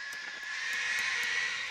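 A drone strike aircraft in the video game State of Decay drones overhead as a steady, moderately loud hum that holds evenly throughout the short stretch, with no voices over it.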